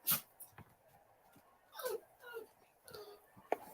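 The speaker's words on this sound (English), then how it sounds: "Oh my God, my dog is so stupid." A dog lets out several faint, high whimpers and whines, scattered in short bursts and mixed with quiet voices in a home during a baseball broadcast.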